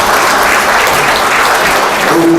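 A crowd at a forum on Andong's future, held at the National Assembly Members' Office Building, gives loud, sustained applause, a thick, steady roar of many hands clapping close by.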